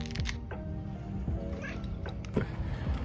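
A cat meows in a backyard, its calls rising and falling in a sing-song, music-box-like way, repeated several times close by over a low steady background rumble.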